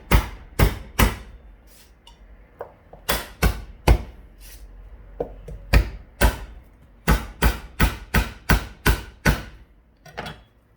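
Farberware kitchen knife crushing garlic cloves on a cutting board: a rapid series of sharp, close thumps and cracks, roughly twenty hits in uneven bursts with brief pauses between.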